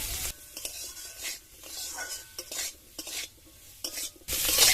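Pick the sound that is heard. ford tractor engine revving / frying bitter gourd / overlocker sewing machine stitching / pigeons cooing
frying bitter gourd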